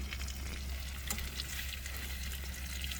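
Beef hotdogs frying in a pan for breakfast by the beach, a steady close sizzle and crackle with occasional stirring clinks, no talking.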